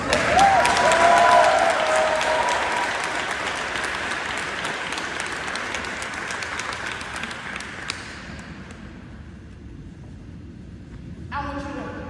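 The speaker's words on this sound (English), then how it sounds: "Let's make some noise as our graduates stand up on their feet." A large audience at a youth graduation ceremony applauds as the graduates stand, a loud burst of clapping that gradually fades over several seconds, with a voice coming in near the end.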